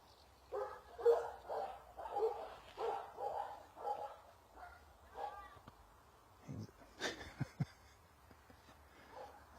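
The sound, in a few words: dogs barking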